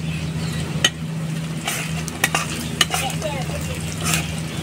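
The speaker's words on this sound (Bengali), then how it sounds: "আবারও একটু ভেজে নিচ্ছি আমি হলুদটা দিয়ে।" Turmeric frying in oil for an egg and lentil curry, a steady close stirring of the pan with scraping spoon strokes and a light sizzle underneath, occasional sharper clinks, no voices.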